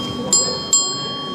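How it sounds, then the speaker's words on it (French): Two bright metallic rings of a Tibetan ritual bell held in the left hand with a dorje in the right, each strike sharp and then decaying, about a third of a second apart, over low crowd murmur at a wellness fair. "Bon voilà, donc Dorje avec la cloche."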